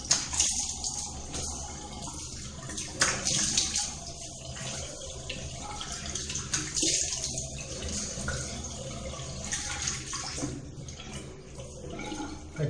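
Tap water runs steadily nearby while a face is washed after a beard trim, with irregular splashes and hand-scooping bursts over the flow.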